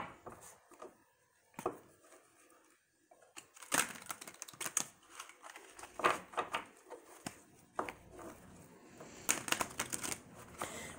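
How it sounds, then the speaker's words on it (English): Tarot cards are shuffled by hand in quiet, irregular bursts of riffling and soft slapping, close and faint, with short pauses between handfuls. "All right, let's get these cards shuffled"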